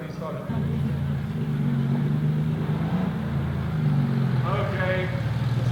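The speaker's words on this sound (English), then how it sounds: "there's a bit of engine sound" Cars rumble past in the Concorso d'Eleganza Villa d'Este 2025 parade, a steady low engine drone that swells slightly with a faint higher whine near the end, while voices murmur over it.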